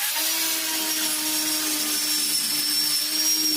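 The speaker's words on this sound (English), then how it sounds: "I think I'm likely just going to do the entire floor and grind down everywhere, including where there's paint." An angle grinder whines steadily as it strips rust from the floor of a 2010 Ford Transit Connect, a loud, continuous high-pitched grinding with a constant motor tone and no pauses.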